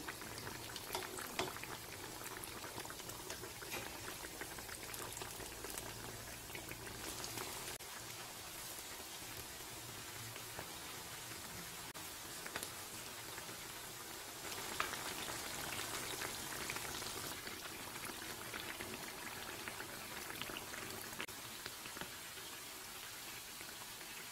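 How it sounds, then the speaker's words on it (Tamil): Moong dal jamun balls deep frying in oil over a medium flame, a soft, steady bubbling fizz that carries on without a break for the whole stretch, with no talk. "மிதமான தீயில் பொறிச்சு எடுத்தால் போதும் இது மூழ்கிற அளவு எண்ணெய் வச்சோம்னா பொரிஞ்சிடும்"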